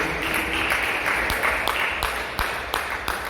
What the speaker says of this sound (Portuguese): batendo palmas bem alegre para Jesus